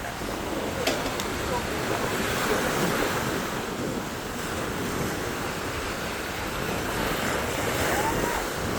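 Sea waves wash steadily over a rocky shore at a beach in Pattaya, a continuous broad surf rush with wind buffeting the microphone throughout, fairly loud and close.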